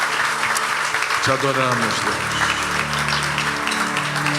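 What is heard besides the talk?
applause in a church service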